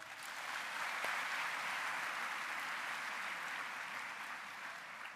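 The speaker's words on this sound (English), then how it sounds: "Another big round of applause." Audience applause at a university orientation welcome, a broad, even wash of clapping from a large hall crowd, heard at a distance and sustained at a steady level.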